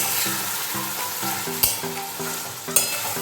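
Dahi potol curry with homemade garam masala being stirred in a pan, a steady close sizzle with rhythmic spoon scrapes and a couple of sharp clinks against the pan, no voices.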